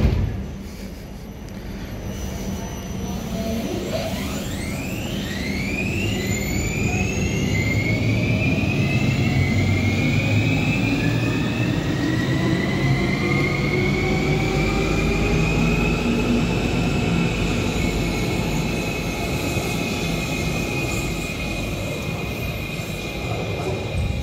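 An Amsterdam GVB CAF S3/M4 metro train pulls away from a station, its motor whine rising in stepped tones over a steady rolling rumble that builds and holds, loud and close throughout.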